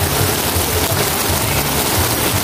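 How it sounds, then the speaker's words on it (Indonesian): Heavy rain pouring down at an open-air market, Pasar Induk Cibitung: a loud, dense, continuous hiss and patter with no gaps, heard alone without talk. "Tuh hujan."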